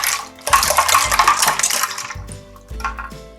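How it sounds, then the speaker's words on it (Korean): Naengmyeon broth is poured into a bowl for cold cucumber soup, giving a close splashing pour with clinks of dishes and a short second splash near the end. "이렇게 하셔서 냉면 육수를 여기 부어줍니다"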